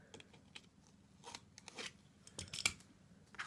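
Scissors snip through grass mat for a model railway layout, a series of quiet, crisp cuts at irregular intervals, close by and alone.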